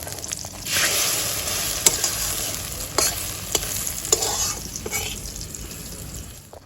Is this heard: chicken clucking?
no